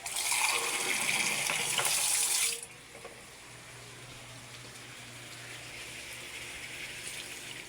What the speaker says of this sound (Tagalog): lagay tayo ng tubig guys.